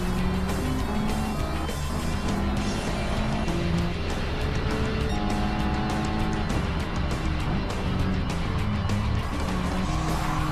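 A Ford F-150 truck engine revs hard during a video game race and drones steadily and loudly alongside other cars, with faint tire squeal and no pauses.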